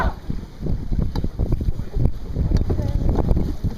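Canoe paddles stroke the water in a loose, repeated rhythm, with splashy dips and swishes close by, carried under wind noise on the microphone.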